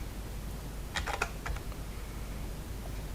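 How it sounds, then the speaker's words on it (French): Someone types on a computer keyboard while using Mastercam CAD/CAM software, producing a short cluster of quick key clicks midway, faint under a steady background hiss, with no talking. "C'est mieux de le taper au clavier, Enter"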